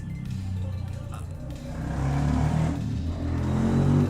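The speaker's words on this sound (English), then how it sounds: "sorry for those motorcycle noises." A motorcycle passes on the street outside an office window, a steady low engine rumble that swells louder toward the end as it draws nearer.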